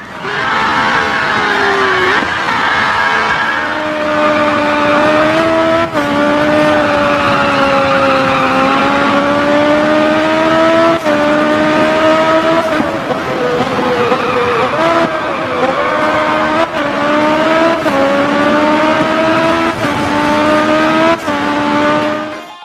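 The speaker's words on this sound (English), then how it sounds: "You can customize and drive hundreds of official licensed luxury cars and compete on real major racetracks all over the world" Licensed luxury racing cars on a racetrack in a mobile racing game, with a steady loud engine drone that rises and falls through gear shifts and occasional tire squeal, continuous throughout without talk.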